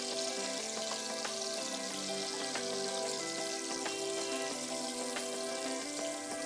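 Cauliflower, chicken and mozzarella cutlets frying in a pan, a steady, even sizzle throughout, moderately close, with light crackling and no talking.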